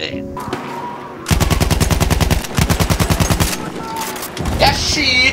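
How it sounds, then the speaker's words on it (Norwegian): Machine-gun fire in a video game, loud and close, in long rapid bursts of evenly spaced shots with a short gap between bursts, followed by lighter in-game effects. "Jeg skyter så mye på det!"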